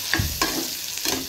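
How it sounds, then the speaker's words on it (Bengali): Fish roe fritters simmer in a curry in a pan, sizzling steadily while a spoon scrapes and stirs through them in three quick strokes. "মাছের ডিমের বড়ার রসা করছি"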